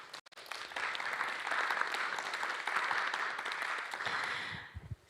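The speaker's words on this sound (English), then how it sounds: "Big round of applause, please, for our panelists" A conference audience gives the panelists of a transport climate-adaptation session a steady round of applause, moderately loud and sustained for several seconds before tapering off.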